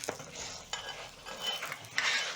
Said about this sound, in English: So I'm going to add in some more oil on my pan